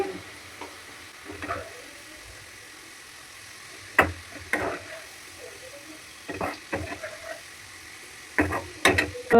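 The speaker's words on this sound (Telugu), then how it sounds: "ఉల్లిగడ్డ ముక్కలను అయితే మంచి గోల్డెన్ కలర్ వచ్చిందాక ఫ్రై చేసుకోవాలి" Onion pieces frying in hot oil until golden, a steady low sizzle broken by sharp scraping and stirring clatters near the pan, with a voice talking at times.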